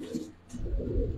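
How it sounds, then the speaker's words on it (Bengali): Silver-necked Gribaz chila pigeons coo in low, soft rumbling bursts, close and moderately loud, with some background noise over a short stretch. "আর এই সিলভার গলার কবুতর তো দেখেন, কবুতরের কোয়ালিটি দেখেন"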